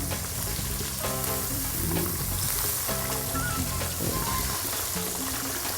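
Steady, loud sizzling of siakap (sea bass) frying in hot oil, with a continuous crackle throughout and faint background music.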